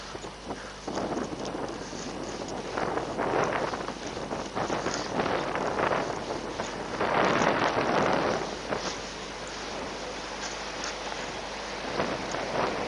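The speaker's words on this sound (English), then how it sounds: "Well, I said it wasn't windy, and then of course the wind picked up." Wind blows steadily outdoors and buffets the microphone with a broad, noisy rush that swells around the middle and stays constant throughout.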